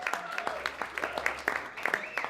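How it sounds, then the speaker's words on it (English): Wedding guests clapping during the speeches at a reception, with a short burst of scattered claps mixed with cheers and murmuring voices. "And we can have a round of applause."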